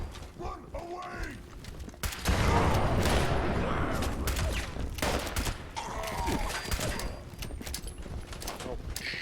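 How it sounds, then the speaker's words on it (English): Explosions and gunfire in Fallout 76, with a loud burst around two seconds sustaining a dense, noisy roar and scattered impacts, while a voice talks over the chaos. "I threw 2 grenades like a mug"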